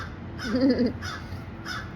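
Crows cawing outside, three separate harsh caws spaced out over two seconds, moderately near with a low background murmur.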